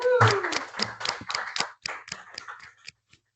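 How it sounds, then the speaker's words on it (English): A small group gives a short round of hand clapping at the end of a talk, about a dozen distinct claps tapering off over three seconds, with a voice briefly underneath at the start. "One last round of applause"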